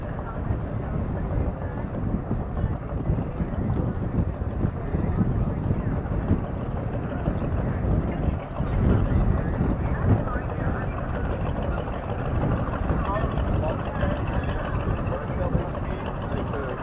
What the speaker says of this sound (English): because it is quite windy out here